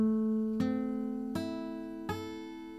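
Three plucked guitar notes ring out one after another at an even pace, each one sustaining clearly over the last.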